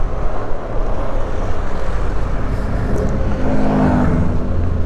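Loud, continuous rumble of road traffic in Silang, Cavite, heard from inside a slowly moving vehicle, with low engine drone and wind noise steady throughout and no talking.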